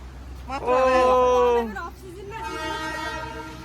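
A toy train horn on a hill railway sounds loudly for about a second, with a wavering tone. A second, softer tone follows, and voices chatter around it.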